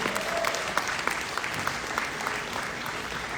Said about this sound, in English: a round of applause to Excel ki Kuriyan